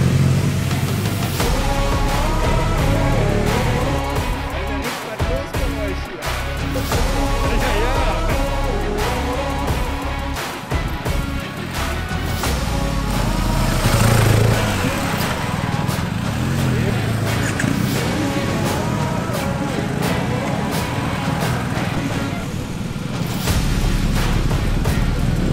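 Motorcycles, including BMW and Harley-Davidson bikes, riding an off-road enduro course: continuous loud engine roar and revving with rough, rumbling passes, mixed with people talking throughout.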